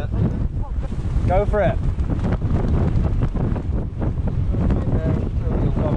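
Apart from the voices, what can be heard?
wind blowing on a hill during a mountain bike ride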